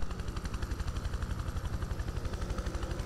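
Military helicopter in the video game Prototype 2, a steady rapid rotor chop pulsing loudly throughout, mixed with dense engine drone and bursts resembling gunfire, with no talking.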